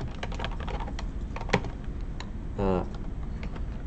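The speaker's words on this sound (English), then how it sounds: "I am typing them." Typing on a computer keyboard during a live coding stream, a steady run of close, rapid key clicks with a couple of sharper strokes, heard under a continuous background hum.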